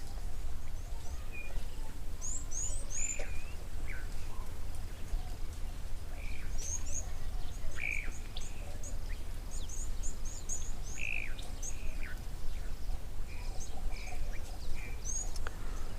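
Birds call at a waterhole in the open, with repeated chirps and short whistled notes at moderate distance over a low, steady background rumble.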